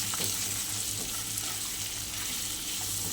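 Potatoes sizzle steadily in hot oil with cumin, chili powder, turmeric and salt, a continuous close frying hiss with faint stirring underneath and no talk.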